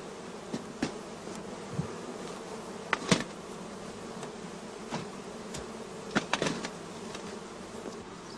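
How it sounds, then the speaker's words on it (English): Honeybees flying out of freshly opened entrance holes of nucleus hives, a steady soft buzzing drone with a few brief louder passes of bees close by and no voices. "we open the entrance holes and let the bees fly."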